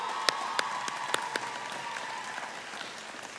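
A commencement audience gives sustained applause, a dense wash of clapping with a few sharp, close hand claps standing out early before it gradually thins.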